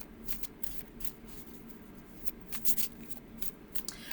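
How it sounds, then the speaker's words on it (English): Tarot cards riffle-shuffled repeatedly, a crisp papery riffling and flicking that comes in quick bursts, close up and fairly quiet. "So you can do the rifle shuffle, and there's no right or wrong way to shuffle."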